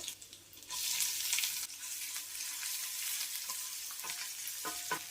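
Chopped onion dropped into hot oil with mustard seeds, cumin and dried chillies, bursting into a loud, steady hiss that sustains close by, with a few faint scrapes of stirring near the end.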